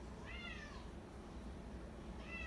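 An indoor house cat gives two clear, moderately loud meows, one near the start and another at the end, over a steady low background hum with no talking.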